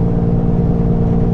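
A farm truck engine revs up close, a loud, steady droning roar with a mid-pitched whir throughout the short burst.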